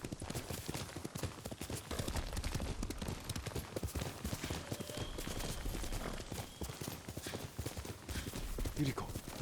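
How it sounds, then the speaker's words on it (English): Horse hooves gallop at a steady, rapid rhythm in the Ghost of Tsushima video game, a continuous loud clip-clop with game ambience and voices layered over it. "الحصان اسرع شوية، اسرع الحصان"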